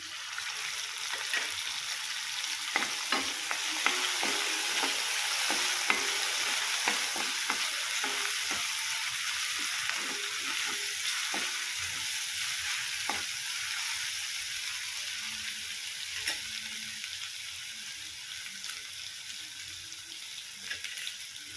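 Chopped tomatoes sizzle and fry in a pan for a Maharashtrian kantola (spiny gourd) sabji, with steady hissing and repeated clicks and scrapes of a spoon stirring throughout, no talking.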